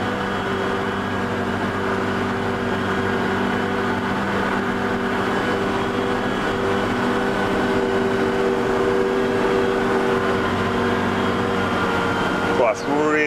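A JCB Fastrac tractor labors through tough, soft ground with a steady, droning engine hum and whine heard from the cab. Someone talks over the continuous noise, and there is a brief clunk near the end.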